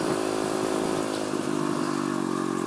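A small pit bike engine revs hard while being ridden outdoors in Florida, a loud, buzzing, steady drone with wind rush, held close for the whole stretch without any talk.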